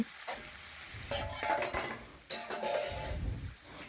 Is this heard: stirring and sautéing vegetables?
yes